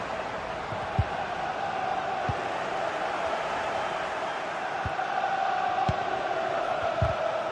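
Crowd noise from a Spurs football match in a video game: a steady, distant murmur of stadium fans with scattered soft thuds and no standout cheers.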